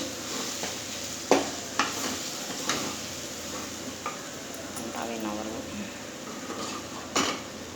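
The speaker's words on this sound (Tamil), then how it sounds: "இதெல்லாம் ஒரு கிளறி கிளறி விட்டு" A spoon scrapes and clinks against a pot of fish curry in scattered strokes, with a soft sizzle underneath and occasional voice.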